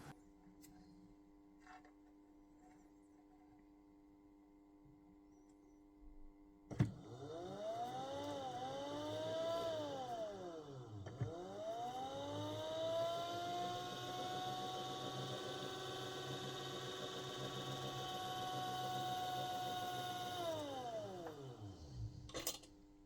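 Honey extractor electric motor kicks on under a repaired control board, humming steadily with a tone that rises and dips as speed varies, close and moderate, then shuts off abruptly.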